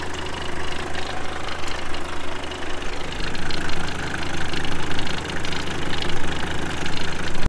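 Bobard straddle tractor working the soil between vineyard rows, its engine running steadily and loud throughout with a rough, knocking mechanical drone and no voices.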